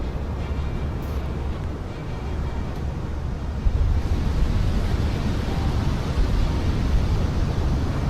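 Rough Arctic sea waves churn in a steady, loud wash around a crab fishing boat, with gusting wind and broadband noise throughout and no voices.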